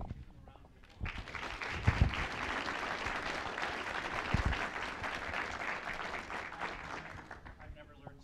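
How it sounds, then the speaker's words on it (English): Audience applause at a college business entrepreneurial competition, a full, sustained round of clapping from a sizeable crowd that swells after a second, holds for about six seconds, then tapers, with a voice briefly audible beneath it. "Give them a round of applause."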